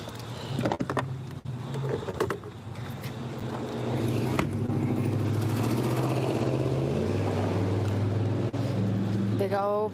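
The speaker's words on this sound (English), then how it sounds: "Did you hear it? It went riding by. Hate those cars." A car drives past outdoors, a loud steady engine rumble that builds and holds for several seconds, with people talking near it at the start.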